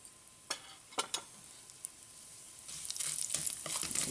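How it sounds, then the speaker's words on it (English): Mustard and cumin seeds spluttering in hot oil for a cauliflower and green peas sabji: a few sharp crackling pops early on, then a denser, steady sizzle with scattered pops building toward the end, close and fairly quiet. "So once the oil gets hot, mustard seeds. Let it splutter."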